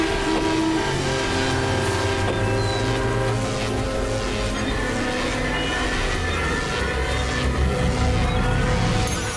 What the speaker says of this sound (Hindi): ये हॉर्न कैसे बज रहे हैं?